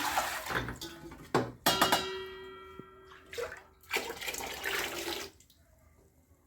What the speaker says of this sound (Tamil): இப்போ நம்ம அந்த மொத்த தண்ணியுமே நம்ம வந்து சேர்த்துறோம்